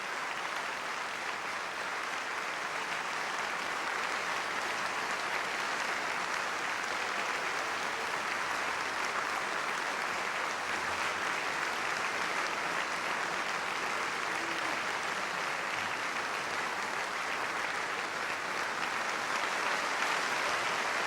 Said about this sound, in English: great applause from the audience here at the London Coliseum